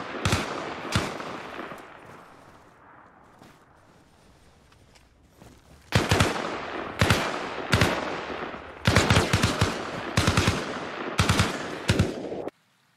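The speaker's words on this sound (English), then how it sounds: "This guy trying to shoot me through the wall?" Gunfire in the video game DayZ, with a sharp shot or two early on, a quieter stretch, then repeated loud, close bursts of rapid automatic fire.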